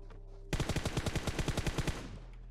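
Rapid automatic gunfire in the PUBG Mobile video game, a steady burst of about fifteen close, loud shots in quick even rhythm lasting roughly a second and a half, with no talk over it.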